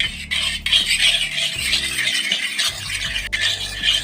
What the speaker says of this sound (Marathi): मी एक लहान चमचा घेतलेला आहे फेटण्यासाठी मी आता ही दही फेटत आहे